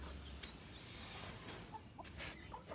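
Chickens cluck softly in a backyard coop, a few short faint calls scattered over a quiet outdoor background.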